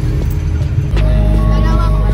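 A ride aboard a jeepney outside a market, with a loud, heavy engine rumble that deepens and thickens partway through, plus rattling and road noise close by.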